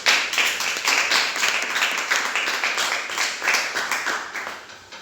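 A church congregation claps together in a steady, rhythmic beat, loud and close, continuing for several seconds with faint voices mixed in.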